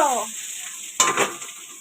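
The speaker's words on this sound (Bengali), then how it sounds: "এই যে পেঁয়াজ ভাজা হচ্ছে, মাংসের পেঁয়াজ ভাজা হচ্ছে" Onions for meat curry frying in a pan, a continuous hiss with a single spatula scrape and clatter midway, brief and close.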